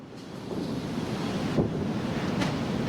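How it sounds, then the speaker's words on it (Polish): Strong wind gusts buffet the microphone beside a walking-floor tarp-covered truck trailer during loading, a continuous loud roaring rush with surging peaks and no voices. "Strasznie się zrywa wiatrzysko."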